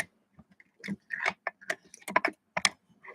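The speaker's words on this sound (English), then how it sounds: "I'm going to go to the sharpener" Sharpener turning a coloring pencil to a finer point, a close series of short scraping, clicking grinds in irregular bursts with quiet gaps between.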